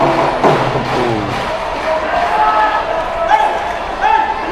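A home crowd buzzes through a basketball stadium during a close game between the Dragons and the Warriors, with a broad, rising murmur and scattered shouts. A commentator's voice sits over it.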